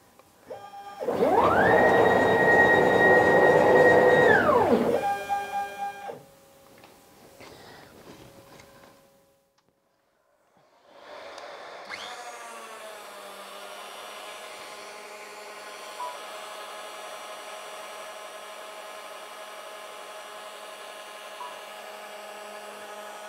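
CNC machine cutting a part that is longer than the machine bed, a loud sustained machining whine in the first few seconds, then a pause and a steady, quieter running tone for the rest.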